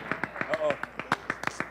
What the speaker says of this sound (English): Let's give Marquise a nice round of applause